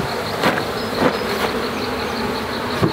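Honey bees buzz around a hive on a homestead, a dense, continuous high hum from many insects close by, with individual bees droning louder as they pass near.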